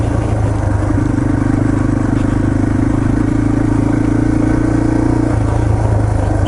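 A Yamaha TT-R230 dirt bike engine drones steadily and loud while riding on trail at Windrock Park, a constant mid-pitched hum with a brief steady rise in tone partway through.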